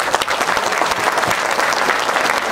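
At a Hindi comedy poetry gathering (hasya kavi sammelan), an audience bursts into loud, close, continuous clapping with slight surges in intensity, and no voices rise above it.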